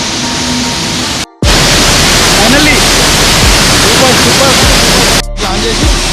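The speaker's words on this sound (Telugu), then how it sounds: "ఇక్కడ మనం డ్యామ్ నుంచి వస్తున్న వాటర్ చూస్తున్నాం కదా, అవే కొద్దిగా వాటర్ ఫాల్ ఫామ్ అయ్యి మొత్తం వాటర్ అని ఇట్లా కింద డౌన్లో పడిపోతున్నాయి అన్నమాట" Water from a dam spills down the Mallanna Gandi waterfall in Jangaon District, a loud, steady, close rushing roar that fills the scene and cuts out briefly twice.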